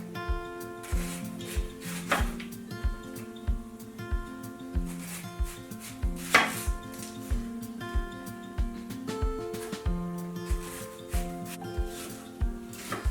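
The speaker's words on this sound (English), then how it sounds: "Sometimes if I cut up extra onion, I just like to put it into a little Pyrex dish" A knife chops onion on a cutting board for a steak recipe, with steady rhythmic taps about twice a second over a soft musical background.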